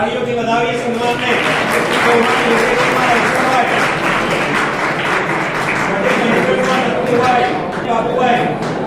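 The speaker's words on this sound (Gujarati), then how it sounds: "તાળીઓથી વધાવીએ સન્માનને." Loud, sustained applause fills a hall during an honour ceremony at Sanskar High School's golden jubilee alumni event in Ratanpur, Idar, with voices running beneath the clapping.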